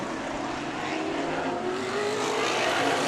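NCMA sprint cars racing at Stockton 99 Speedway, a loud, steady engine roar filling the clip with a rising whine as cars circle the track, with no voices.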